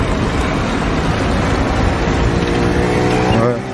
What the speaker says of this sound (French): il y a trop de circulation d'un coup.